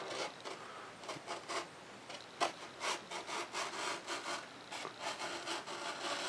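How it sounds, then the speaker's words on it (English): Popsicle sticks are trimmed off a foam-board model jet with a 70mm EDF, a steady back-and-forth rasping cut, close and fairly quiet, with no voices. "Now these are just sticking over just a little bit, so I just want to take and trim some of this off."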